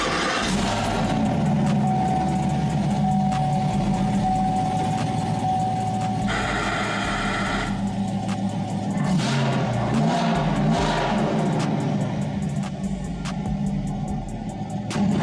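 Engine of a 2018 Chevrolet Camaro running at close range with a deep steady idle, several rising revs and an electronic chime audible above it.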